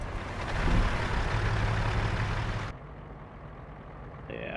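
A heavy truck rumbles loud and steady in American Truck Simulator, heard from outside the cab, then drops to a quieter idle after a few seconds, with a brief higher tone near the end.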